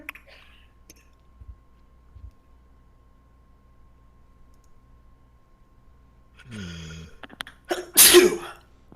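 One sharp, close sneeze bursts out suddenly after a quiet stretch with faint background clicks, in a room during a tabletop roleplaying game session.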